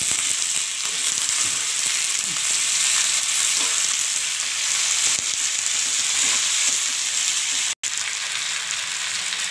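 Dried red chillies fry in a pan for a coriander chutney, giving a steady, close sizzle that holds at an even level throughout with a brief break near the end.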